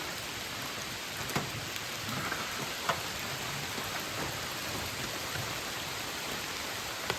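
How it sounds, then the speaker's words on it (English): Rain falls steadily at a campsite by a hatchback with an attached tent, a constant soft hiss with occasional louder drops tapping nearby. "The rain's picking up."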